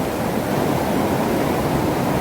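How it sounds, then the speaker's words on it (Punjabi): Flooded seasonal stream rushing through a village near Nangal in Punjab, a loud, continuous roar of fast water filling the scene with no pauses. "ਦੇਖ ਲਓ ਦੇਖ ਲਓ ਖੱਡ ਕਿੰਨੀ ਤੇਜ਼ ਆ ਰਹੀ ਹੈ"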